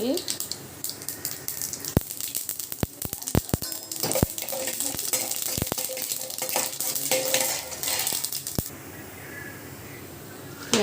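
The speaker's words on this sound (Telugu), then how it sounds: "కొంచెం తాలింపులు వేసుకుందాం అన్నీ కలిసిన తాలింపులు అండి" Mixed tempering spices sizzle steadily in oil while sharp metallic clinks and taps ring out repeatedly, like a spoon striking a pan during stirring, with no talking.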